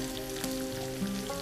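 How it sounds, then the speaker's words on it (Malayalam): Chopped vegetables hit hot oil with ginger and garlic, giving a steady close sizzle and crackle with brief stirring scrapes, no talking. "അടുത്തായി നമ്മൾ നേരത്തെ കട്ട് ചെയ്ത് വെച്ചിരിക്കുന്ന നമ്മുടെ വെജിറ്റബിൾസ് നമുക്ക് ഇതിലേക്ക് ആഡ് ചെയ്യാം"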